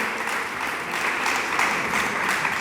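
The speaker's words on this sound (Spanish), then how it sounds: "Dele palmas al Dios del cielo." A congregation claps its hands during a church service, a steady, even wash of many hands applauding together at moderate volume without pause.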